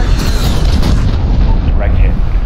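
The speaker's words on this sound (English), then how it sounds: "Cruise missile's in." A cruise missile strike in Call of Duty Modern Warfare lands as a heavy, sustained rumbling explosion, loud and continuous throughout with crackling debris.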